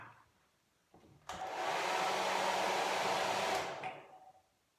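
A hair dryer blasts steadily at close range for a couple of seconds, drying a beard, with a soft click as it starts and a brief fade when it cuts off.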